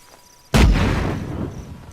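Bomb explosion in the video game Just Cause 3, a sudden loud blast hitting after half a second of quiet, then a rumbling roar that slowly decays.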